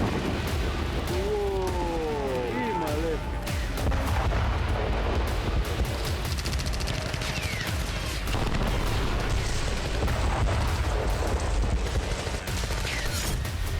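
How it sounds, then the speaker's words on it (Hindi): Heavy bombardment in Khan Younis, Gaza, with dense rumbling booms and blasts rolling on continuously, loud and close, amid a chaotic wash of distant crackle and debris noise. "इजरायली सेना की बमबारी में खान यूनिस बुरी तरह से जल रहा है।"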